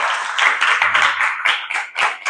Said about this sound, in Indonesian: Tepuk tangan buat Wahadah